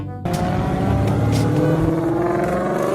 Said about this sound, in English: Let's take it for a test drive.